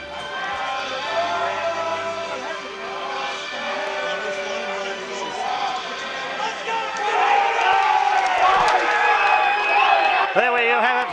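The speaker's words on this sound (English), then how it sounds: "As the crowd roars support for their teams" A large crowd roars and cheers in support of the teams at an amateur Australian rules football grand final, a sustained loud wash of voices that swells louder toward the end, with a voice speaking over it.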